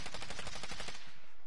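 A rapid burst of automatic gunfire in a video game, loud and close, rattling off in quick succession before cutting out abruptly.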